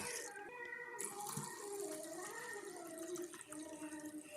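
Black urad dal is stirred by hand in water, giving a steady close sloshing and trickling with no talk.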